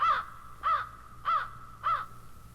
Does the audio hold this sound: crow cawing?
yes